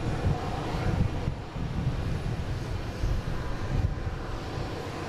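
A jet airliner turns on the ground at Boston Logan airport, heard as a steady, loud, broadband engine roar mixed with wind buffeting on the microphone, holding level throughout.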